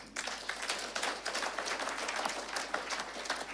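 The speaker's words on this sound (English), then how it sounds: "We want to clap for you." An audience at an anniversary fellowship gathering claps for a guest, a steady, moderately loud burst of many hands with rippling individual claps throughout.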